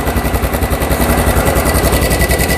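A small gasoline engine roars close by with a fast, steady pulsing beat as throttle is applied. The engine was started on full choke with the fuel valve on, and it runs loud and continuous throughout.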